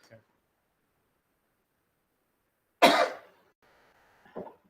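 A single sharp cough rings out after a long quiet stretch, followed by a brief softer throat sound near the end.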